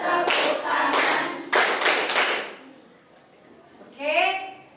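Children clap their hands in a classroom clapping song, several quick bursts of group clapping close by, alternating with singing voices.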